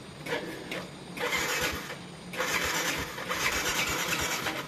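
A motorcycle engine is cranked repeatedly from cold, bursts of whirring starter noise broken by short pauses, the last attempts longer, struggling to catch because the fuel tank was switched off.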